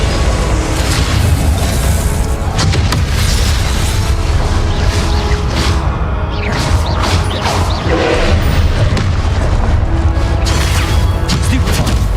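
A Confringo explosion spell goes off in the Hogwarts Legacy video game amid dense, loud combat effects: booming blasts, crashes and mechanical clatter piling up continuously with no gap in the racket.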